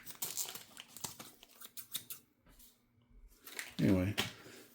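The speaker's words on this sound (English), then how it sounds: "Man, these scissors suck." Scissors snip through material for a purple Traxxas TRX4M custom build, a few short sharp cuts scattered among speech with brief crinkling; someone talks throughout.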